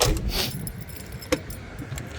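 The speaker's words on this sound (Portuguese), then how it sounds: "Essa aqui é a chave dele, tá?" Keys of a BMW 320D jangling close by in a quiet space, one brief soft rattle followed by a sharper single clink, with faint background noise and no talk.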